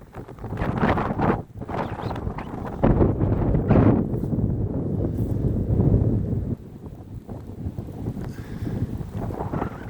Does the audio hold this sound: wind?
yes